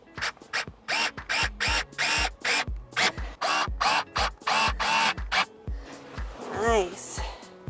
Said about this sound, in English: Now we screw it on the bottom.